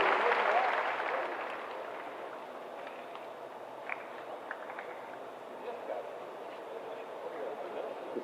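Applause for new Bihar Police constables at an appointment-letter ceremony opens loud and dense, then trails off within a couple of seconds into faint scattered claps and low background chatter in a large hall.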